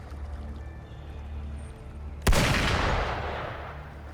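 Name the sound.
gunfire in the video game Wuthering Waves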